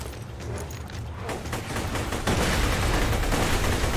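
A corrosive spinning gun in Borderlands 2 fires at an armored skag, a dense, continuous rapid-fire roar that builds and grows louder toward the end, with no talking.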